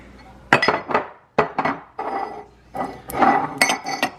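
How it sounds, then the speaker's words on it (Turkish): Dishes clinking and clattering as they are unloaded from a dishwasher, lifted and set down, a series of sharp ceramic and glass knocks in irregular bursts, close by. "Şimdi şu bulaşık makinesini boşaltıyorum hemen"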